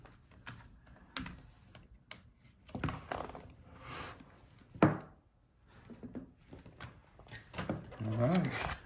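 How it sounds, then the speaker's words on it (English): A Framework 13 laptop's palmrest and keyboard assembly being pried free and lifted out, with scattered plastic clicks and taps, one sharp snap near the middle, and handling rustle toward the end; a voice talks intermittently. "Now let's see how easy it is to take out the Palmrest keyboard."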